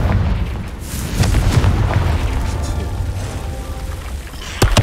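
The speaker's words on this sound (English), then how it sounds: "That looks like a Confringo thing. So Confringo." A Confringo fire spell explodes in the Hogwarts Legacy video game, giving a loud booming blast with a sustained rumbling tail and a sharp burst near the end.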